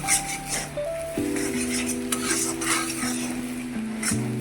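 Vegetables, soybean chunks and potato with ground coriander and cumin, are stirred and fried in an iron wok, giving a steady sizzle with scraping and light clinks from the utensil, close and continuous, while a high tone hums underneath.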